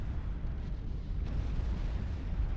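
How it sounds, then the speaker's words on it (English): A large explosion in a strategy video game, a deep, rumbling low boom that swells and sustains steadily without a sharp onset, heard alone with no talking. "Right as the explosion was happening?"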